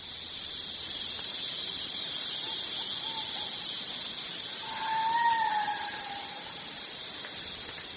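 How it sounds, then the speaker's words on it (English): A spider monkey lets out a single drawn-out, high squealing scream at moderate distance, rising briefly above a steady, loud chorus of insects. "That scream comes from a spider monkey."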